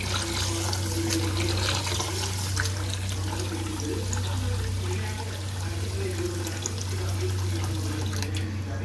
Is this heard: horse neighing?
no